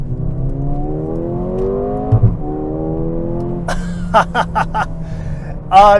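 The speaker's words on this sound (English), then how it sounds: "You get a good like hiss of turbo whine." A 2024 Mercedes-AMG GLA35 engine revs in second gear with a rising harmonic drone and a faint turbo hiss, then sharp bursts near the end; someone talks over it.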